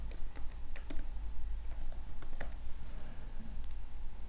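Keys clatter on a computer keyboard as a studio name is typed into a podcast recording app, a quick irregular run of light clicks up close over a faint steady hum, with no talking.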